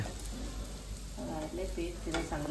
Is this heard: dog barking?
no